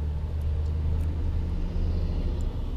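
An oversized-load truck rumbles down the road nearby, a steady low engine drone with road noise and no talking.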